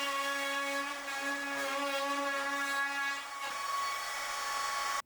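A wooden tray feeds through a thickness planer. The motor gives a strong, steady tonal whine that shifts slightly partway through.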